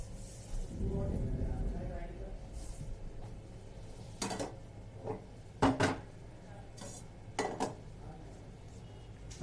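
Hot cooked mango mixture scraped from a pan onto a plate, a few sharp metallic clinks and scrapes of spoon against cookware spaced out amid low kitchen noise, with a voice talking near the start.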